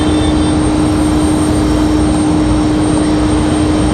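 WestJet jet airliner at Raleigh Durham International Airport, a loud, steady engine roar with a constant hum, heard from nearby without talk.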